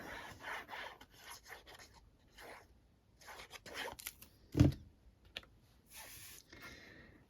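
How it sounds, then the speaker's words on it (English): A small eraser rubs excess glue off a handmade Z-fold Christmas card, making close, soft scrubbing strokes in short bursts, with one sharper thump midway. "Little eraser just to take off any excess glue from mucking about there."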